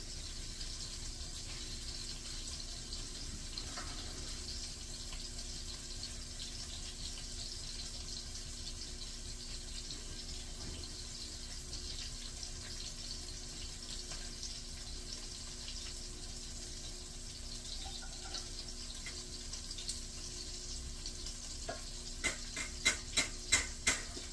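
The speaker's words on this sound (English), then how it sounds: "we're going to go ahead and cut our eye off and pour our water out" Hot pasta water for mac and cheese pours out into a colander in a kitchen sink, a steady broad rush of water running for a long stretch, followed at the end by a few quick beeps.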